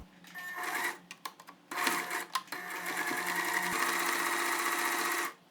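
A sewing machine runs in close, steady bursts while stitching a dart on a straight skirt, with brief pauses between runs followed by one long continuous stretch.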